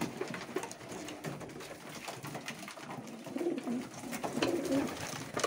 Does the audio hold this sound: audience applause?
no